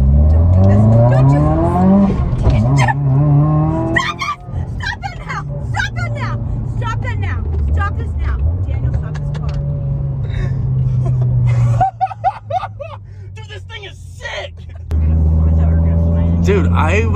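A modified 2020 Subaru WRX accelerating hard at partial throttle, the engine note rising in pitch through a revving pull and dropping between gears, with excited people talking and exclaiming over it inside the car.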